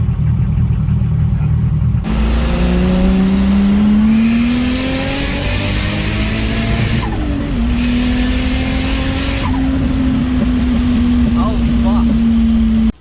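A tuned Nissan Skyline R31 RB30ET engine with a swapped cam revs hard and climbs steadily in pitch, loud and close, holding a strained high drone as it keeps pulling at the top.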